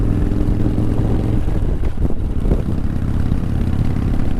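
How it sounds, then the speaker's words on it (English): A 1988 Harley-Davidson Softail Custom motorcycle cruises along, its engine a steady, deep, continuous rumble heard up close from the rider's position, mixed with constant wind buffeting the microphone. "So I'm out on the 1988 Softail Custom."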